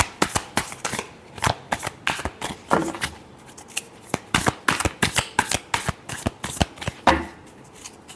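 A deck of tarot cards is shuffled by hand in quick, irregular bursts of crisp riffling and flicking, close and fairly clear, with a faint murmur of voice at moments.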